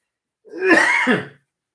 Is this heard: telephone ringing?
no